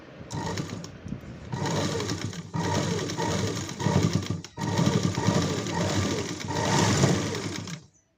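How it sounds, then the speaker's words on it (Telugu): Sewing machine stitching three sides of a piece of old cloth, a steady continuous motor whir with dense needle chatter, running in long bursts with a couple of brief pauses. "ఇప్పుడు త్రీ సైడ్స్ స్టిచ్ చేస్తున్నాను"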